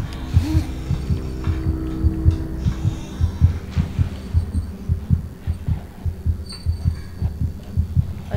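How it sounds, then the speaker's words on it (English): Heartbeat in the game Among the Sleep, a steady series of deep low thumps in a regular lub-dub rhythm over a droning hum, close and prominent with no speech. "I don't know if that's my heartbeat,"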